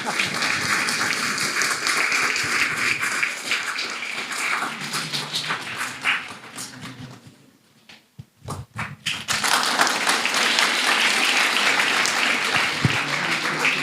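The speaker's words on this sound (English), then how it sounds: "Another round of applause" An audience claps at the prize giving of a Japanese speech contest in Kenya, sustained applause that dips briefly into near quiet before a second loud burst of clapping.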